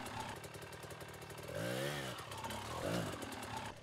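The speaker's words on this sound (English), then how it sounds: "You can tell by the little bit of roost, but also by the sound of the bike." A dirt bike engine rises to a loud, rough rev as the rear wheel spins climbing over a log, heard close and fairly steady throughout.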